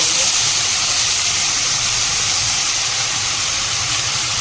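Coriander powder hitting hot oil in a pan, a steady loud broadband sizzle and hiss that holds evenly throughout with no talk over it.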